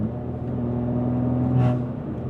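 BMW S55 engine with catless resonated downpipes and equal-length exhaust revving, a steady deep droning exhaust note with a brief rise partway through, close and loud with no talk.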